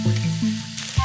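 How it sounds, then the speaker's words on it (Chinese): Scallops, shrimp, chicken breast and kai-lan stems stir-fried in a wok, a loud steady sizzle with scraping and tossing, clanking spatula hits near the end, no talking. "加干贝、虾仁，翻炒片刻， 再混合鸡胸、 芥蓝杆，炒2下"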